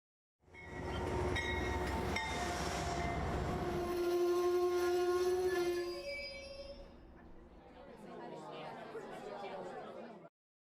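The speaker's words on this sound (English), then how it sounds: "the train coming into the city and going past all of the various things" A train rolls into a city and passes by, with a steady rumbling rail drone, sustained tonal squeals and a whistle-like hum that fade into a softer wash of noise, part of a logo animation effect, loud and continuous.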